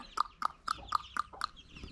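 A chicken on a village farm clucks six times in a steady, even rhythm, close by and fairly quiet, with no talking.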